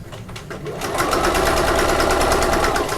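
A home sewing machine fitted with a zipper foot stitches fabric in a steady, fast mechanical whir, starting softly then running at full speed loud and close.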